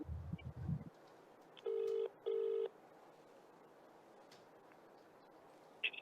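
Two short bursts of telephone keypad dialing tones for a phone-in call on a live TV discussion, clear against a quiet background after a brief low thump.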